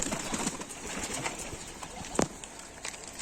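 Soft pigeon coos and scattered bird calls as Adana pigeons land on a roof outdoors, with faint rustling and a brief flutter-like burst midway.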